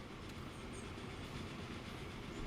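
Freight locomotive running in Transport Fever 2, a steady low rumble with a rolling wheel clatter, fairly quiet and continuous, no voices.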